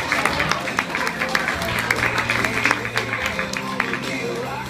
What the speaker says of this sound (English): Come on down, give a round of applause.